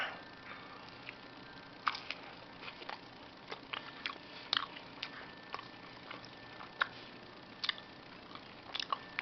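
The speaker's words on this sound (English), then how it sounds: "Crunch for texture." Close, crunchy chewing of a U.S. MRE meatballs-in-marinara meal topped with a little cheese, with irregular bites and crisp crunches scattered across the clip and no talking.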